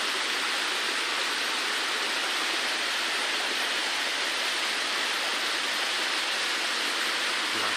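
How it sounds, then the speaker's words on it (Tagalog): Water drips and trickles from tree roots inside a forest, a steady broadband patter and rush filling the scene without pause, with no voices. "Laking tulo."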